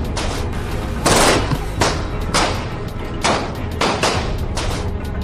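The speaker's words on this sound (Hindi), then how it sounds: "कनपट्टी से सटाकर बाईं तरफ से गोली चला दी जाती है" Gunfire in news footage: about six sharp, loud, close shots spaced irregularly over a few seconds, each a hard crack that cuts off quickly.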